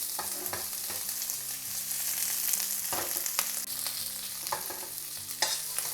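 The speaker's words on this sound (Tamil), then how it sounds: "ப்ரானை லைட்டாக சாட்டே பண்ணி எடுக்க போகிறோம்." Prawns sautéing in a pan over medium heat for brown rice prawn noodles, a steady sizzle and fry with utensil stirring and scraping knocks at irregular intervals, close and with no talk.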